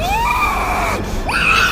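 A woman screams loudly and shrilly in an audio drama, one long sustained scream that breaks off and then resumes in a second piercing burst over a low background hum.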